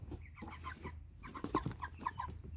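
Several American Bresse chickens clucking softly and irregularly nearby, overlapping low cackles against a quiet background hum.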